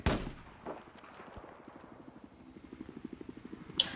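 Video game gunfire: an opening loud crack, then a steady run of quick, faint shots rattling in a fast rhythm, fairly distant and quiet.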